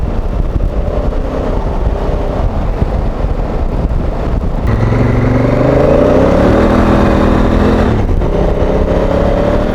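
Honda Africa Twin motorcycle on a knobbly Motoz Tractionator DualVenture rear tyre, its engine droning under heavy wind buffeting at the microphone, with the pitch rising midway as the bike speeds up.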